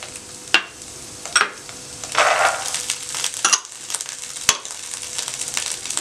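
Carrots and peas fry in oil in a pan for chicken vegetable noodles, a soft sizzle broken by scattered clacks and scrapes of stirring, with no voices.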